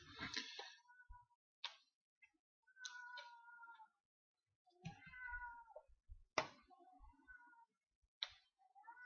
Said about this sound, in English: Looks like it's time for an appearance from our mascot, Henry the Cat